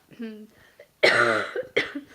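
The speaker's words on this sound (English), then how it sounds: "have a cough, I'm sorry." A single burst of harsh coughing, loud and close, followed by a shorter second cough, with quiet voice sounds just before.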